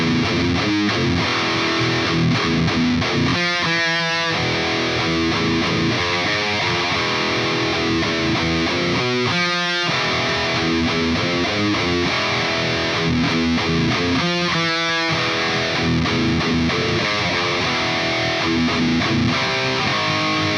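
A distorted electric guitar plays a slow thrash metal riff of palm-muted chugs and power chords, loud and close, repeating in bursts with heavy crunchy tone and no talking.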